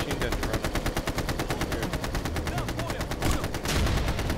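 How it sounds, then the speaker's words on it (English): A machine gun turret in the video game Ghost Recon Future Soldier firing in one long, rapid burst of evenly spaced shots, loud and close, with a heavier blast near the end. "constant machine gun turret."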